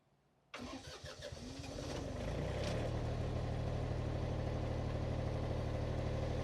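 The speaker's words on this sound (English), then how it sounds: "If you turn it on, it will start the generator." An off-grid backup generator cranking and catching, then settling into a loud, steady engine drone that holds to the end, close by and alone with no talk.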